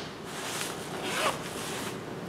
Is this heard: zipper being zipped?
yes